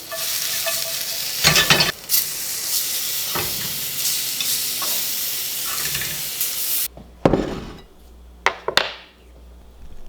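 Ground turkey and vegetables fry in a pan with a loud, bright, hissing sizzle and occasional stirring knocks, then the sizzle cuts out and a few sharp clatters and scrapes follow in near quiet.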